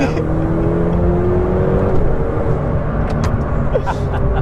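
A Ferrari Pista sports car drives along, its engine producing a steady, loud droning hum and road noise throughout, with a brief higher whine near the end.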